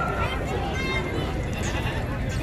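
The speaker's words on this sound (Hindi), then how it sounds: "जिस तरह ये लाट है बकरियों की।" Goats, including Rajanpuri goats, bleat in a huge Pakistani livestock market, their calls mixed into a dense, loud crowd hubbub with people talking nearby.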